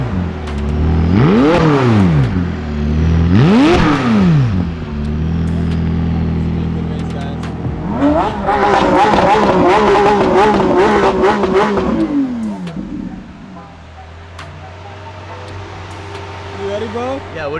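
A McLaren 600LT Trofeo R or Lamborghini Aventador SVJ supercar engine revs hard twice in rising and falling sweeps, then holds a high, rough rev before settling to a loud idle, close by, with voices talking at times.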